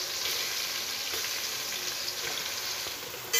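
Chicken with browned onion and ginger-garlic paste frying in a pan for biryani, a steady loud dense sizzle with crackling throughout and a faint clatter at the end, no voices.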